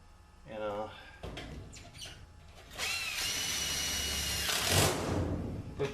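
A power drill whines up and drives screws into HVAC sheet metal in short bursts, then runs loud and sustained near the end, while a person talks in the background.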